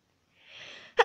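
A person's voice imitates a sneeze: a soft, rising breathy intake, then one sharp, loud burst at the end, close and otherwise quiet.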